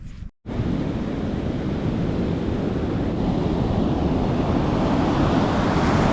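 Ocean surf rolls onto a California shore in a loud, continuous wash, heavy with wind buffeting the microphone, after a brief cut at the start.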